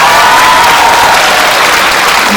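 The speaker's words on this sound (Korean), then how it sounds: "감독님께 박수 한번 부탁드립니다" Loud, continuous audience applause for a film director at a Korean movie screening event with cast stage greeting, steady crowd clapping throughout without talk.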